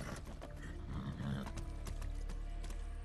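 Horse hooves clip-clop at a steady gallop in Far Cry 6, with an occasional neigh and mechanical rattles mixed into a dense, continuous game soundscape.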